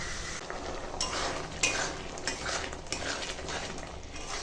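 Chana dal (split chickpeas) cooking in a pot on the stove, with a utensil stirring and scraping against the metal in short repeated strokes over a steady low sizzle, close and moderately loud, no talking.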